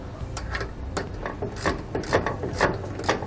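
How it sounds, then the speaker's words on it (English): Wrench tightening bolts on a SumoSprings helper spring bracket for a 2016 Coachmen, close-up rhythmic ratcheting clicks and metallic rubbing strokes in an irregular series, no voices. "tightening one side a little bit, move to the other side until both bolts are all the way snug down"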